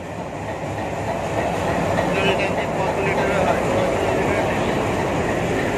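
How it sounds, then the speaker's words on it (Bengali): A train engine idles at a station with a steady, continuous low rumble and mechanical hum, fairly loud and close, while people talk nearby. "ট্রেনের ইঞ্জিন ফদর ফদর করছে এখানে দাঁড়িয়ে"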